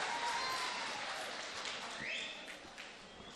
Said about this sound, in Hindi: जोरदार तालियों से आप इनका भी एक मर्तबा इस्तकबाल।